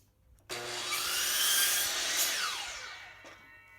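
A saw cuts steadily through the end of a 1x6 wood fence board to trim it square, a single close rasping stroke sequence lasting about three seconds that starts abruptly and then fades.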